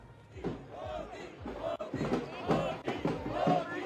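A large crowd of BJP party workers at an election rally in Gujarat cheers and chants in rhythmic loud surges, several swelling shouts repeating close by, with voices mixed in.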